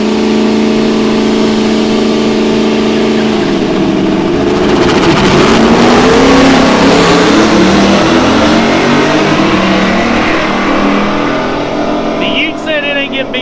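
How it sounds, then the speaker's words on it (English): An SP Tools ute driving in at a street racing event, its engine a loud, steady close drone that rises and shifts in pitch as it approaches. "it looks like we got the SP Tools Ute coming in"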